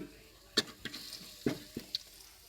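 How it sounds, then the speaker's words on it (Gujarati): Onions frying with garlic in a pan for pav bhaji: a faint sizzle under a handful of sharp scraping clicks as the pieces are stirred. "હાલો તો આ જાય છે હવે ડુંગરી ડુંગળી લાલ થવા દેવાની"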